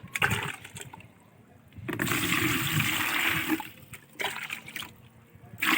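Fresh tap water pours and splashes into a container in two or three bursts of running flow, close by and fairly loud, with a short gap between them.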